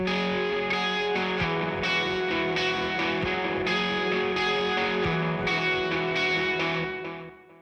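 Electric guitar run through an Amplitube 5 amp simulation of a Transatlantic amp on its dirty channel, with Echo Man delay and reverb: saturated, sustained chords and notes with trailing echoes and a washy tail, played alone.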